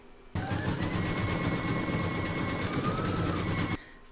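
Embroidery machine sewing a satin stitch around the belly of an in-the-hoop cat bookmark, a fast steady mechanical whir with rapid needle chatter, running alone for about three seconds and then stopping abruptly.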